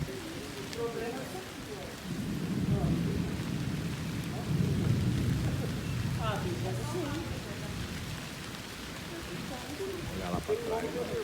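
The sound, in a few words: rain during a windstorm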